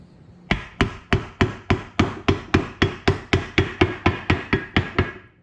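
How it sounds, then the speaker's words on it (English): Wooden block struck with a hammer to tap a seal into the front timing cover of a 2009 Hemi 1500 engine, about fifteen sharp evenly spaced knocks, loud and close, no talk. "this wooden block makes contact with the front timing cover"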